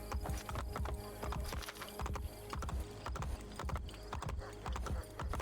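Horse hooves clip-clop in a steady, rapid gallop rhythm within an Assassin's Creed-style video game, layered over dense game ambience and mechanical clatter, fairly loud and continuous.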